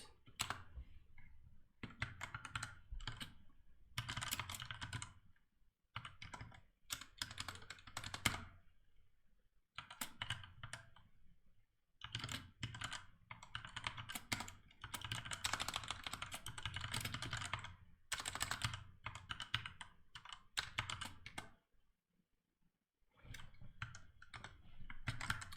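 Fast typing on a computer keyboard during a C programming session, a dense close clatter of key clicks in long bursts broken by short pauses, with no talking.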